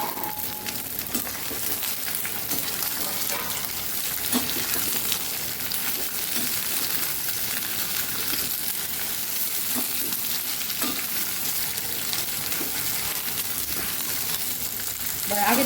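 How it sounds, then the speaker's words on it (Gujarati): Okra frying in a small amount of oil gives off a steady, close sizzle with a constant crackle that runs the whole way through, with no talking. "તો હવે આપણે ભીંડા પણ સેમ એ જ રીતે ફ્રાય કરી લેવાના છે"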